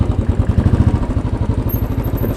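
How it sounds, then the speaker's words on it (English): A Royal Enfield Bullet 500 single-cylinder motorcycle idling slightly high, a steady loud thumping pulse of low beats close by. "You can hear the bikes idling a little high."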